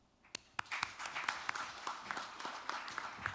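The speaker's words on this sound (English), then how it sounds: "please give them another round of big applause" Sparse, crisp clapping from an audience thanking presenters after a conference discussion session, with individual claps standing out rather than a dense roar, fairly faint.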